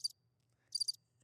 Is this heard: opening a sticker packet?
no